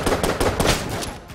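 Rapid bursts of gunfire in Enter the Gungeon crack in quick succession, a short volley of repeated shots at moderate volume.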